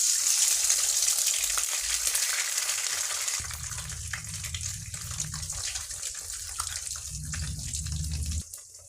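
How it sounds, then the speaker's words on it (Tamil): Two eggs hitting hot oil in a pan for a Tamil fish roe fry, a steady bright sizzle throughout with low bubbling and crackling underneath, close and continuous with no talking. "இப்போ நம்ம 2 முட்டையை உடைச்சி ஊற்றிடலாம்."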